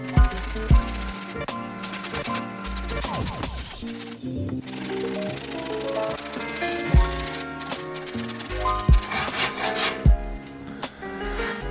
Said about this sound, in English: you can feel where the rasp provides resistance in order to determine the high spot